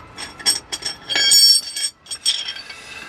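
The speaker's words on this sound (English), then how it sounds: "I keep tapping the prop." A hand tool clinks against a van's prop shaft several times during mechanic work underneath the vehicle, giving a run of short, close metallic taps with bright ringing.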